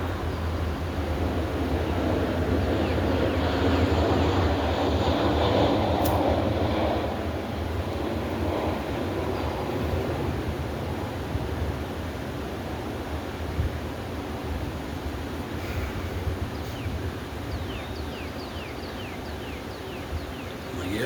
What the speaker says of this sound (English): I stay out here by the airport, so it's pretty loud. You know, the airplanes, man, they tend to be pretty loud.